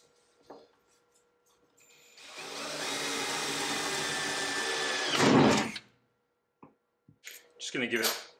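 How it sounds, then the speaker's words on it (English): A power drill whirs continuously for about three seconds, drilling holes in a Stessco roof-top tinny boat, ending with a louder grinding burst, with brief clicks and handling noises before and after. "So let's drill some holes."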